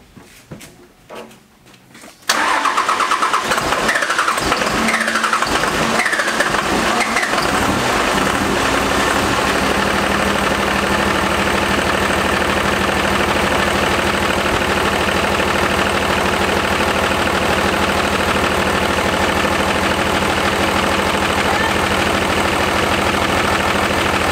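A 12-valve Cummins diesel engine in a 5-speed truck cranks briefly, then fires and settles into a loud, steady, rattling idle that continues unbroken, close to the listener.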